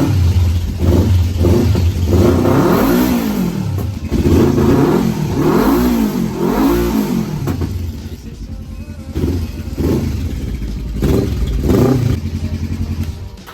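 A motorcycle engine revs up and down repeatedly, loud and close, with rising and falling pitch sweeps and clattery idling between revs.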